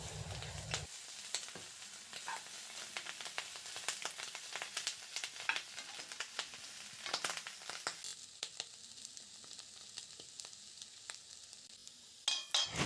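Clams frying in a pan for a Kerala-style clam fry, a steady close sizzle peppered with sharp crackles and spatters, with a brief louder hiss at the very end.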